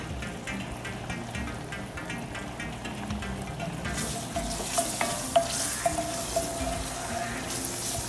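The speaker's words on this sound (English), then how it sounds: "I like to add the andouille, so it renders, it gets nice and crispy." Andouille sausage fries and renders in a gumbo pot with a steady, moderately loud sizzle, joined partway through by scraping stirs and light clinks.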